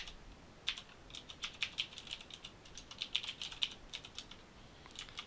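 Keys clatter on a computer keyboard in quick, uneven bursts of light taps, close but quiet, with short pauses between runs and no voices.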